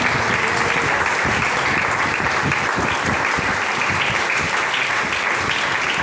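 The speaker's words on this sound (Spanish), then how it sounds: "Denle un aplauso al Señor." A church congregation claps steadily through a Spanish-language worship service, a dense, even wash of many hands that stays loud and close for the whole stretch with no pause.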